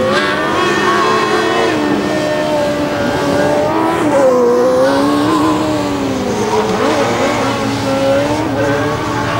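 Formula Student race car running in the endurance event at Formula Student Germany 2009, its high-revving engine loud and close with rising and falling pitch through shifts and corners, continuous throughout.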